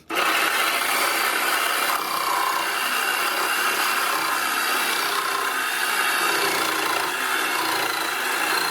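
A small bandsaw, eight or ten inches, cuts steadily through wood to shorten a radius, giving a continuous loud, rasping whine that holds for several seconds with no talking.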